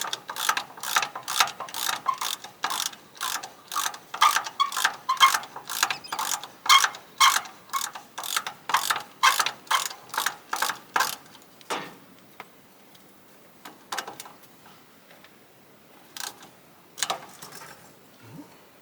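Ratchet wrench clicking in a steady rapid run while loosening the thermostat housing bolts on a Mack F600 Thermodyne diesel engine, close and loud, then a few scattered clicks and knocks as the work slows.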